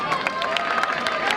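Audience at a mushaira applauding, with a steady wash of clapping and scattered louder claps continuing throughout at a moderate distance.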